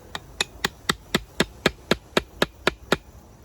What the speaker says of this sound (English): let's hammer this in here.